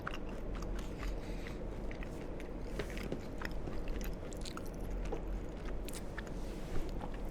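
Close, crisp crunching and biting as walnuts are chewed in an ASMR setting, with irregular cracks and grinding bites throughout and no talking.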